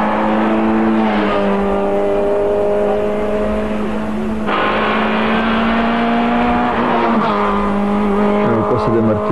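A Suzuki rally car drives a stage of the 1997 Yu Rally near Belgrade and Avala, its engine revving loud and close with rising and falling pitch through gear changes, under a commentator's voice.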